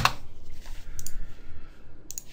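Several sharp, light clicks of a computer mouse while working in the Unreal 4 editor, one at the start and a couple more spaced out later, close and crisp over quiet room noise.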